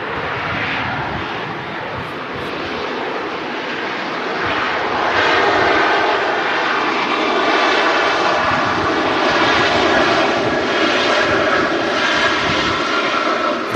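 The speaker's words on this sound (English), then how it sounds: "Ryanair just touched down from Berlin" Ryanair airliner arriving from Berlin and touching down at Manchester Airport, a loud sustained jet engine roar that swells midway and stays strong to the end, with no talk over it.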